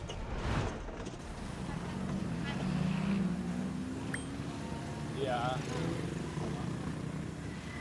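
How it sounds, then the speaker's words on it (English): Inside a very old Chevrolet car driving through Santiago de Cuba, a steady low engine drone and road rumble continue throughout, with passing street noise and a faint voice in the background. "We are currently driving through Santiago de Cuba in a very old Chevrolet"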